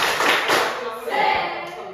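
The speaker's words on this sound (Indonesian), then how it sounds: "Tepuk semangat." Seventh-grade students at a junior high school clap together in a PE volleyball lesson, a dense burst of claps with brief taps and thuds, overlapped by voices.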